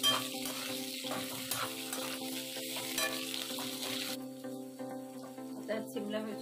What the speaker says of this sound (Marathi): आपण यात तीळ घालणार आहोत, आता पण आपण 1 मिनिटासाठी परतून देणार आहोत